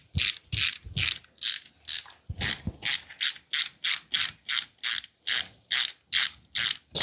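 Ratchet wrench clicking in quick, evenly spaced bursts while backing off 9/16 nuts on a Triumph Spitfire, close and crisp with no talk.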